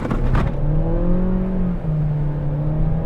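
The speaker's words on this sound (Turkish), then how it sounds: "Tam gaz yaptım." An Audi A3 Sportback 35 TFSI engine roars under full-throttle acceleration, its pitch climbing steadily, dropping briefly at a gear change, then rising again, heard from inside the cabin.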